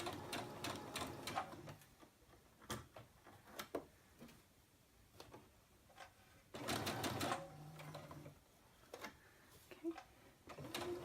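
A sewing machine stitches pleats onto a wristlet base in short runs of rapid mechanical whirring and ticking, separated by pauses, quiet and close.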